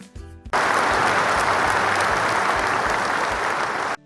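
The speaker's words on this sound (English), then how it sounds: "The audience cheered and clapped." An audience claps and cheers in a dense burst of applause that starts abruptly, stays loud and even for about three and a half seconds, then cuts off sharply.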